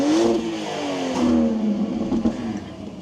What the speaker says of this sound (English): you get, of course, a inline-6 turbo engine